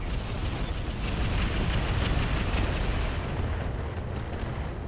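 Mech weapons in the RogueTech video game pound a howitzer with a Boar's Head, a continuous loud roaring barrage of blasts and rumble with no break.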